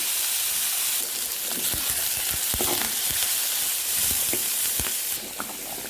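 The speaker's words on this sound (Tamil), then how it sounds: "வெங்காயத்தை சேர்த்துக்கோங்க கருவேப்பிலையை சேர்த்துக்கோங்க நன்றாக வதக்கி கொள்ளலாம்" Onions and curry leaves sauté in a pan for sambar, producing a steady frying sizzle with intermittent scraping and stirring clicks from a utensil, close and continuous.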